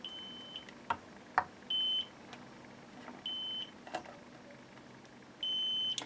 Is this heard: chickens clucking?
no